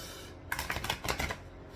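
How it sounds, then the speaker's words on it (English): A tarot card deck being shuffled by hand, a close, dry burst of rapid riffling card flicks lasting about a second with quiet room tone before and after. "So we're going to go ahead and shuffle this one more time."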